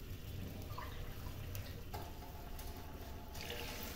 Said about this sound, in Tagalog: maglalagay ako ng 1 tasang tubig